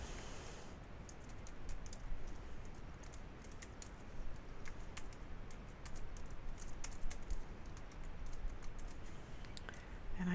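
Keys clatter in quick, irregular bursts on a computer keyboard, fairly faint and close, with no one speaking over the tapping.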